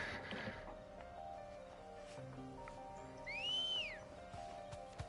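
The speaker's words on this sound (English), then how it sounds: "See, sometimes he does a normal whistle, and then sometimes it's very sexual." Short rising-and-falling whistle from a character in Final Fantasy XVI, clear and fairly close, heard alone over a quiet ambient background with faint tonal hum.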